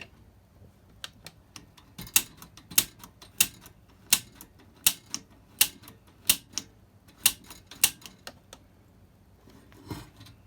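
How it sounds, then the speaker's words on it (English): A piezo igniter button on a gas water heater is pressed repeatedly to spark and light the pilot, making about a dozen sharp, close clicks at uneven intervals over a quiet background. "it creates an arc in between this prong and the end of the pilot valve to light the pilot"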